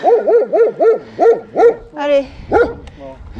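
A large dog barks in a rapid run of six or seven loud, close woofs, then a couple of spaced barks, with someone speaking briefly between them.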